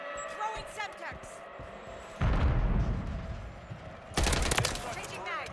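A Semtex grenade detonates in Modern Warfare 3 multiplayer, a loud close burst followed by a second blast and gunfire, with rattling weapon handling and game voice callouts around it.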